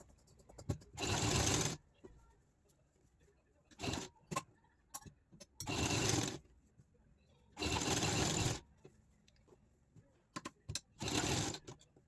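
Short, close bursts of a sewing machine stitching a neck design backed with canvas, four longer runs mixed with a few brief taps and clicks, with quiet pauses between.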